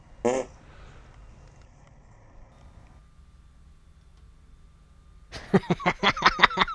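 A single short dog fart near the start, then quiet, followed by a rapid series of loud, rhythmic bursts toward the end, outdoors in the woods.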